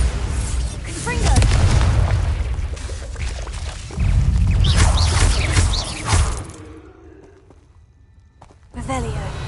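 Spell explosions from Bombarda and Confringo in Hogwarts Legacy on PS5, several heavy booming blasts with rumbling bursts that come in waves, loud and close, mixed with game sounds and a voice.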